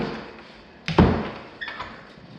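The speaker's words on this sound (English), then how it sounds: "This door doesn't latch either, right?" A closet door in a house interior swings shut without latching, giving one sharp close knock followed by a softer rattle and a couple of faint taps as it settles.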